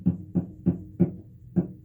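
Five dull, damped plucks on a cello string muted by something in the way, evenly spaced about a third of a second apart, each a short thud that dies quickly instead of ringing.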